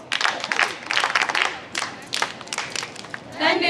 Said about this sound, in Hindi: आप सभी लोग एक दूसरे का धन्यवाद करने के लिए ताली बजाइए